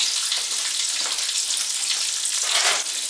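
Bacon frying slowly in a pan for homemade bacon bits, a dense, even crackling sizzle close up and fairly loud, steady throughout without speech.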